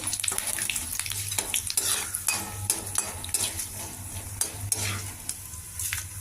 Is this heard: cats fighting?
no